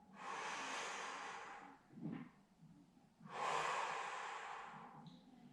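Deep, slow breaths during gentle seated chair exercise: two long airy inhalations or exhalations with a short sniff between, close and fairly quiet, no talk.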